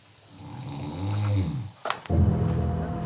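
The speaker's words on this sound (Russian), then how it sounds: "О, храпит живой." A person asleep inside a crypt snores loudly and close by, a drawn-out rumbling inhale followed after a short pause by a coarser, louder snore.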